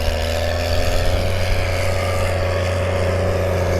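A tractor pulls an Amazone Catros disc cultivator across a field, its engine giving a steady, loud, continuous drone with a deep low hum and no breaks, and no voices over it.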